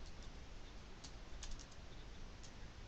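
Steady light keyboard typing while writing jQuery code on a computer, soft rapid clicks under a faint background hiss, with no talk.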